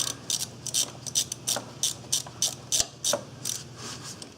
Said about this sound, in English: So let's loosen up this hose clamp.